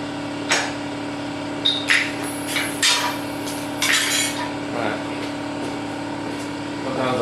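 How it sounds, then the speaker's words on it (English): Several sharp knocks of a hammer freeing a frame from a jig, spaced irregularly over a loud steady background hum. "Sometimes I really have to hammer on it to get it."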